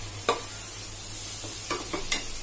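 Onion frying in a pan over a medium flame for Sindhi chana dal, a soft continuous sizzle broken by a few sharp stirring scrapes and clinks, close and without talk.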